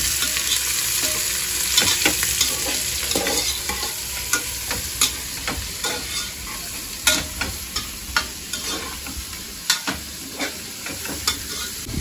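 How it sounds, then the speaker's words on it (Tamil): Green chilies and garlic are sautéed in a pan, making a strong, continuous sizzle close by, punctuated by a regular run of spoon scrapes and taps against the pan. "பச்சை மிளகா பூண்டு எல்லாத்தையும் போட்டு நல்லா வதக்கணும்."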